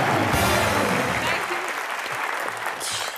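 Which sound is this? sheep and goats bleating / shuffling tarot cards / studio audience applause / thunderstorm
studio audience applause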